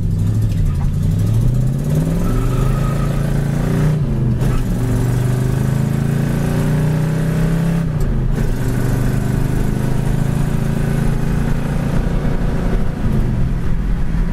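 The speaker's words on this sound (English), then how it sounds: "Car goes down the road 60 mile an hour, does not need an alignment" A 1967 Ford Mustang with a four-speed cruises down the road around 60 mph. Its engine gives a loud, steady drone with a few gear-shift dips in revs, heard from inside the car.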